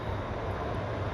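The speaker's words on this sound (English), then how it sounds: "Apologies for the train." A train passes outside beyond a garden, giving a steady, dense rumble that fills the whole short moment without a break and without any voices.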